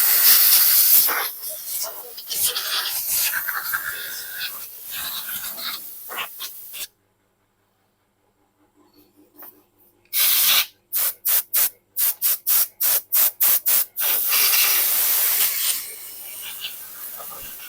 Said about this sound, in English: Little brake cleaners.